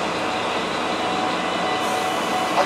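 Steady rumbling hum of the Akebono sleeper express train idling at a platform at Omiya Station on the Tohoku Main Line, a constant broadband drone with no voices.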